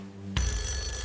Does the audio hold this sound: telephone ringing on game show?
yes